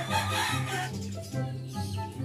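Broodcock chickens cluck and crow close by in a farm pen, a run of overlapping calls and harmonic clucks that continues for a couple of seconds without speech.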